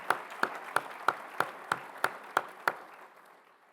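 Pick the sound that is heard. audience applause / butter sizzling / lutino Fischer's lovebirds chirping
audience applause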